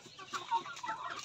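A mother hen gives a few soft, quick clucks, fairly faint and close, with no other sounds around them.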